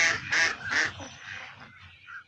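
Ducks quacking in a Hunting Simulator duck and goose hunt, a cluster of several loud nasal quacks in quick succession that thins out into softer calls, close and clear.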